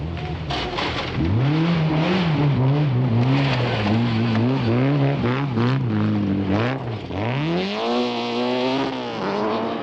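A Peugeot rally car with a damaged windscreen and bonnet drives hard along a forest stage in a winter rally. The engine is loud and close, rising and falling in pitch through repeated gear changes.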